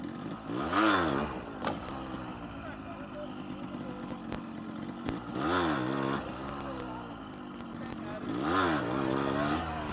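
A Yamaha RX 100 motorcycle's engine revs in repeated rising and falling surges over a steady idle, close and fairly loud, with voices talking nearby.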